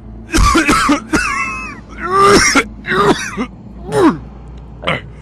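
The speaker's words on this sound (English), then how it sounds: "How long have you had that cough?" A person coughs and clears their throat several times in a row, close and loud, with raspy, strained bursts separated by short pauses.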